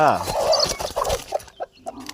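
A hen with two newly hatched chicks clucks in a quick run of throaty calls, close by, then a few sparser clucks trail off.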